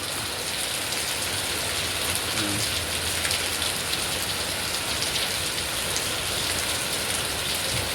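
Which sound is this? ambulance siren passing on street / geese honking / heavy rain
heavy rain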